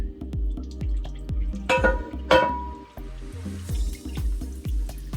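Fat and juices drip and trickle as cooked hamburger meat is drained from a pan, with scattered splashes and a couple of brief louder pours over a low background hum.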